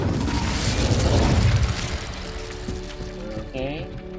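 A fiery Incendio spell in Hogwarts Legacy bursts with a rumbling whoosh and boom, fading into lingering crackle and faint game tones.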